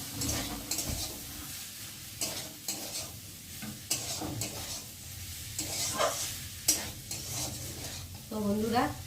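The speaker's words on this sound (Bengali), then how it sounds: "আর এখন এই যে ম্যাগিগুলোকে দিয়ে ভালো করে নেড়ে নেব।" Maggi noodle pasta is stirred in a frying pan, with repeated scraping and clattering strokes over a continuous sizzle, close and fairly loud.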